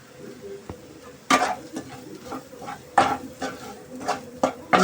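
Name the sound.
onions and chili powder frying in a pan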